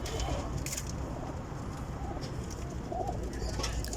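Rampuri pigeons in a breeder's loft coo softly over a steady background hum, with low repeated coos and a few brief chirps scattered through the stretch.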